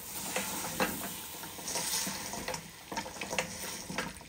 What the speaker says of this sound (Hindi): आलू के समोसे जो आप इतने ज्यादा तेल में तल रहे हैं